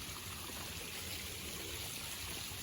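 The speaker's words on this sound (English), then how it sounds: "And here's the waterfall." Creek water and a waterfall in the woods rush in a steady, even wash of broadband noise that holds constant throughout, moderately loud with no voices.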